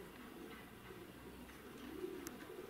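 Pigeons coo faintly in a quiet, steady outdoor background, soft and distant with no talking.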